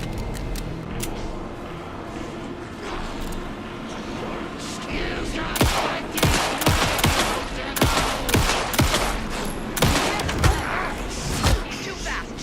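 Rapid gunfire from a shootout in the video game Alan Wake 2, bursts of sharp shots crowding together in the second half over a steady game background, loud and close.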